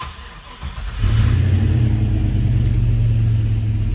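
A 1969 Chevrolet C10 shortbox pickup with a fuel-injected 6.0 engine cranks briefly, then catches and settles into a loud, steady, close-up rumbling idle with a slight rev, alone without speech.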